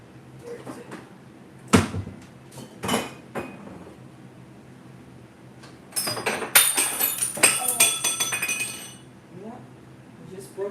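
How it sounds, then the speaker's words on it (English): Glass clinks and shatters in a home kitchen, with a sharp crash near two seconds, another at three, then a dense burst of clattering shards and tinkling pieces from six to nine seconds, close and loud with brief voice sounds around it. "Broke some glass"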